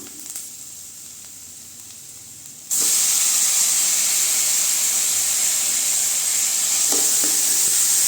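Tomatoes hitting a pan of sautéed onions for tomato rice, a sudden loud sizzle that bursts in partway through after near quiet and holds as a strong, steady hiss to the end.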